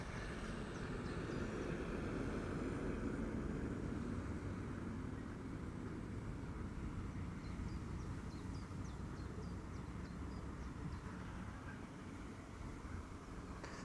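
ITA Airways airliner departing Amsterdam Schiphol, a broad distant jet engine roar that swells early and slowly fades as the aircraft climbs away, steady rumble with no talk.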